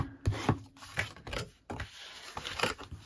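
A burnishing tool rubs paper on a handmade lidded gift box. Soft, close scraping strokes come in short uneven bursts, quiet and with no voices.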